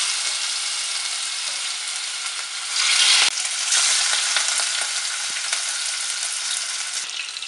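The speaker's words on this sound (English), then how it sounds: "Now fry the fish." Rohu fish pieces frying in hot oil: a dense, loud, hissing sizzle fills the whole stretch, swelling briefly partway through as the oil spits, heard close up and alone without any talk.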